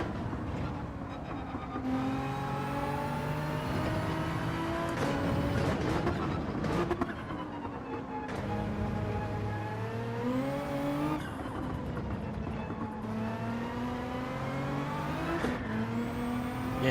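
Nissan race car engine in Gran Turismo 7 droning loud and continuous, pitch climbing through gears with repeated upshift drops and rising whine, no slipstream.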